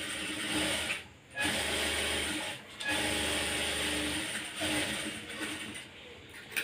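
A sewing machine runs in close, steady bursts while stitching a blouse, the mechanical whir pausing briefly a few times between runs.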